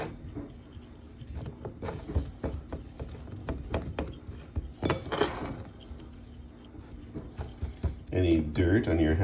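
Spice rub of salt, pepper and other seasonings mixed by hand in a glass bowl for brisket, heard as rapid light clinks and pattering scrapes with a short burst of talk near the end.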